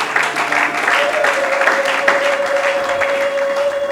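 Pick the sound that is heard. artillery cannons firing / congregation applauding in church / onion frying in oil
congregation applauding in church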